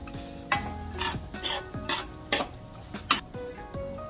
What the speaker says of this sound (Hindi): इसको ऐसे डाल के धीरे धीरे मिलाएंगे इसकी गांठ नहीं पड़नी चाहिए